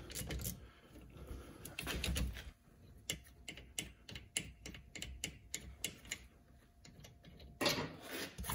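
A 14 mm ratchet wrench clicks in quick, uneven bursts while working a rusty bolt loose on a Toyota Camry during a front brake and rotor job, close and fairly quiet with no talking.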